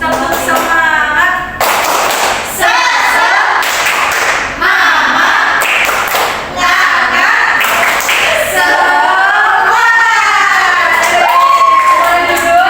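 Schoolchildren in a third-grade classroom clap in rhythmic bursts and shout a spirited cheer together, led by a female teacher, loud and close with voices rising over the claps.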